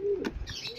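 Pigeons coo softly at close range, a brief low throaty call with a faint chirp over quiet background noise.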